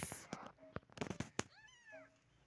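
Tiny newborn kittens, a litter of three, give thin high-pitched meows, a couple of wavering cries close to the microphone, with soft bumps, rustling and handling noises in between.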